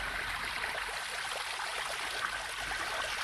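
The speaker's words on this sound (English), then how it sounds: "As the water filled up his tank" Water pours into a steam engine's tank at a station by a river, making a continuous gushing, trickling wash. It is steady and moderately quiet throughout, with no voices.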